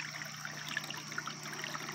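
Creek water trickles and gurgles steadily over a cleared path through wood debris, a soft, close, continuous flow with small bubbling splashes and no talking.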